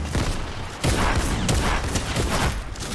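Fortnite gameplay in a gun-game match: dense rapid gunfire and explosive bursts fill the whole stretch, loud and continuous with shifting intensity and no clear pauses.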